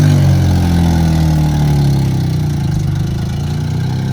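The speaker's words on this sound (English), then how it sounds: "We got the 240 running." A Datsun 240Z engine running steadily up close, a low, throbbing idle with a slight rise and fall in pitch and no voices.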